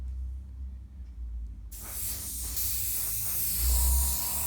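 An airbrush spraying paint onto a model kit, laid down in heavier passes until the paint runs out; a steady close hiss starts abruptly partway through after a quiet start.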